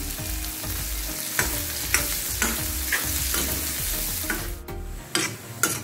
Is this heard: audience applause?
no